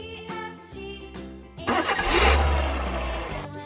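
A car engine cranks and catches, then revs loudly and holds a strong roar, following a stretch of soft melodic music.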